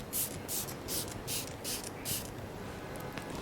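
About nine short hissing sprays of a makeup setting spray mist bottle in a steady rhythm, close by, with faint room noise between bursts.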